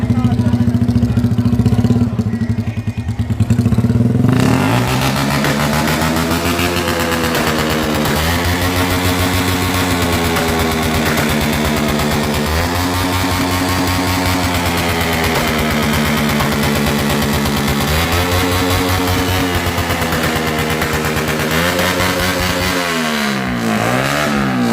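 Motorcycle with a loud aftermarket exhaust pipe at a loudest-pipe contest revs hard repeatedly, very loud and close, with a brief quieter idle at the start and rising, falling throttle blips throughout.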